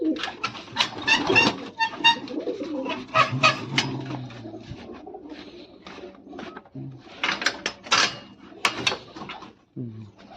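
Several domestic pigeons coo in a loft where adult birds are kept with young ones, the soft throaty calls repeating close by amid wing flutters and light shuffling, with no talk over them.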